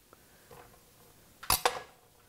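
A knife slices through a small homemade bread loaf on a kitchen surface, giving two sharp, close crunchy cuts in quick succession after a quiet lead-in with faint handling noises.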